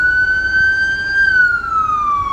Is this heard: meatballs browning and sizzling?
no